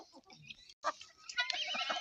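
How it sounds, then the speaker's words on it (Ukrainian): Chickens cluck and chatter busily while feeding nearby, a dense overlapping mix of short calls with a brief pause near the start. "Кури їдять."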